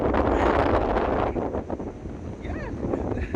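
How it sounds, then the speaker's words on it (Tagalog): Strong gusts buffet the microphone outdoors with loud, low, roaring rumble that eases slightly midway, and a brief voice cuts in near the end. "Lakas ng hangin dito guys."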